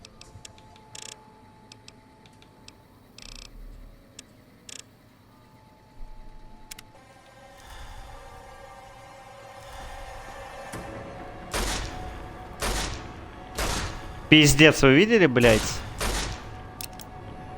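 Rapid bursts of gunfire from a video game crack out in several sharp clusters, growing louder toward the end, while someone talks and swears over the shooting.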